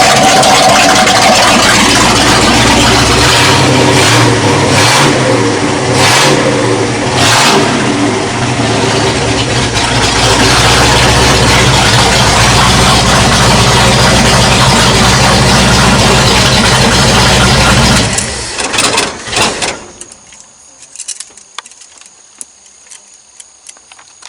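A Dentside Ford shop truck engine runs loud and close, its steady rumble rising and falling with revs, then cuts off abruptly near the end, leaving faint ticking and quiet.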